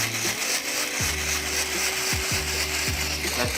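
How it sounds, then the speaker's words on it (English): An electric shaver, ROSS clippers, buzzing steadily while cutting a person's hair, a loud close motor drone whose pitch sags briefly several times as it bites into the hair. "We're gonna use a shaver."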